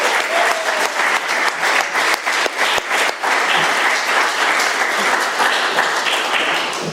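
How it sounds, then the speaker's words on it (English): An audience at a gathering in Doylestown, Pennsylvania claps steadily for a speaker, dense sustained applause that fills the room and holds for about seven seconds before easing slightly at the end. "Let's give our speaker another round of applause."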